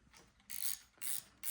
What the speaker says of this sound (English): if you wind the shutter, you have to